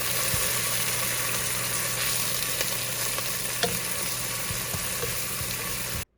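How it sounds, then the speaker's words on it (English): Chard leaves sizzle and fry steadily in a hot pan, a dense continuous crackle with a few faint stirring clicks, close and loud, no talking, cutting off abruptly at the end. "we'll let it all cook together for about 10 minutes until the leaves become really wilted"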